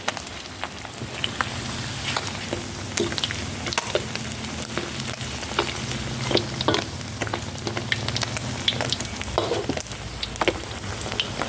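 Sun-dried fish frying in hot oil, a steady close sizzle with scattered pops and crackles and occasional utensil stirring sounds.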